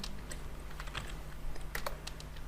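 Steady typing on a computer keyboard during Android coding work, a run of quick, close, fairly quiet key clicks with uneven rhythm and no voices.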